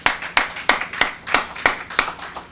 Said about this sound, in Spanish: Permítame darles un aplauso